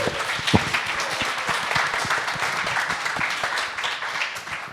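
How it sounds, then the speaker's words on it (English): A panel audience at a nightlife-preservation conference gives a speaker a round of applause, a full, sustained clapping from a crowd in a hall, steady and fairly loud with no voices over it. "Let's give him a round of applause."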